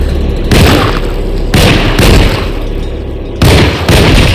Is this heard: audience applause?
no